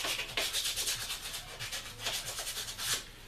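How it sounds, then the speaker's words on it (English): Sandpaper rubbed back and forth against a soldering iron tip to clean it, a steady scratchy rasping in repeated close strokes with no talking. "sometimes I'll just take a piece of sandpaper"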